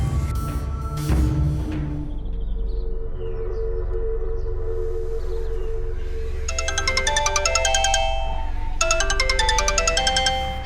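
A mobile phone rings with an incoming call from an unknown number, its melodic ringtone chiming in repeated bursts over a low background hum, growing louder and more insistent toward the end.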